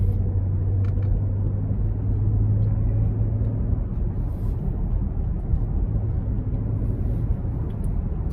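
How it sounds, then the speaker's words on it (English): The 5.7 Hemi V8 of a 2014 Jeep Grand Cherokee rumbles steadily, a deep, loud, continuous low growl heard up close without talk. "When you want to, you hit that V8 rumble."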